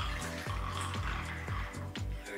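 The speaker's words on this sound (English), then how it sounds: "just pour it slowly into your glass" Gin glugs from a bottle into a highball glass filled with ice, a close, quiet series of rhythmic gurgling pulses that repeat about twice per second.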